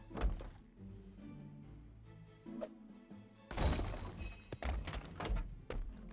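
Stone castle walls crumbling and breaking apart in the Castle Crumble video game: scattered thunks and knocks, then a loud burst of crashing debris with repeated impacts and rumbling collapse, close and busy.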